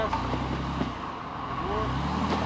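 An off-road vehicle stuck on a trail gets a little gas during a recovery, a moderate, low engine rumble that rises slightly, with faint voices in the background.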